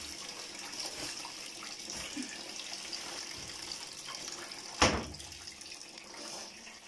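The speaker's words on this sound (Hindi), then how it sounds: "गर्म पानी का नल खोल लेते हैं ना, तो फिर गर्म पानी आ गए" Hot water pours steadily from a kitchen tap, a constant close rush with one sharp clunk or splash partway through.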